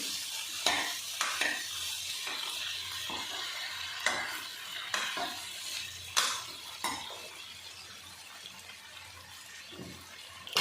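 Rice fries in oil in a pan, a continuous sizzle broken by repeated scraping stirs and soft clinks of the spoon, heard up close with no talking.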